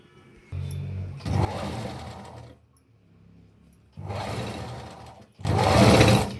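A sewing machine stitches frills onto a layer of a child's lehenga in bursts of rapid whirring, each run lasting a second or two with short quiet pauses between, close by and loud.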